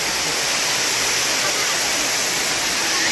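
Steady, dense roar of water pouring down the Jummapatti waterfall near Matheran in the rainy season, close and loud, with no voices above it.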